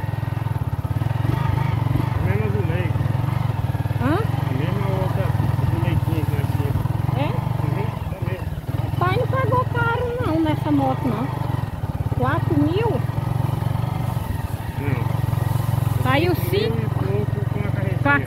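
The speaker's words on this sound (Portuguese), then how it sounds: "Essa moto aqui é macia," Motorcycle puttering along a dirt trail through the woods, its steady mid-pitched engine running loud and continuous while someone talks over it in Portuguese throughout.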